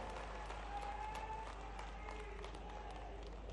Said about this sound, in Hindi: जोरदार ताली बजाओ हमारे भाई के लिए।